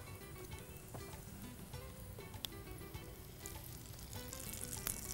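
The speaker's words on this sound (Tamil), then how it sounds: "இப்போது இதை தாளித்தது கடுகு, காஞ்ச மிளகாய், உளுத்தம் பருப்பு," Mustard seeds, dried red chilies and urad dal temper in hot oil, a steady close crackling sizzle with scattered sharp pops and spits, continuous and alone without speech.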